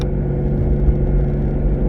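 A lowered car's engine rumbles steadily at close range, a low continuous drone as it rolls past.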